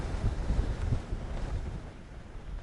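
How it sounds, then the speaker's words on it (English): Strong wind at night during Storm Callum buffets the microphone as a steady low roar with gusty surges, loudest early on and easing slightly, with no talking. "it's so windy tonight, it's actually still reading red on the old meter"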